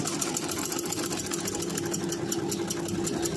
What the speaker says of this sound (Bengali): এখন আমি পাইপিংটাকে একটা ভাল দিয়ে সামনের পাটে এনে আমি সেলাই করে নিচ্ছি